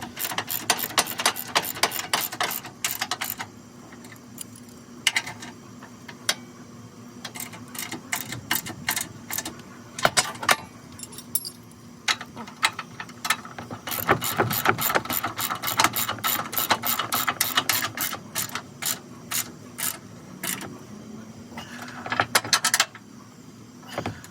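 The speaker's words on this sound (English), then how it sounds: "Okay, so I'll go ahead and tighten these up, and we'll go from there." A hand ratchet clicks in rapid runs and pauses while tightening upper control arm bolts on a 2003 Ford Expedition, close and crisp, with bursts of fast ratcheting separated by short gaps.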